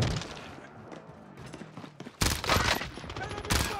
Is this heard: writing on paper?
no